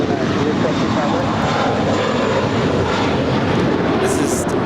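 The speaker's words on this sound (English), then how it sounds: "It's JetBlue Airways 1700. It's an Airbus A321." A JetBlue Airways Airbus A321 departs LAX with a loud, continuous jet engine roar, dense and steady, up close; a brief higher hiss cuts in near the end.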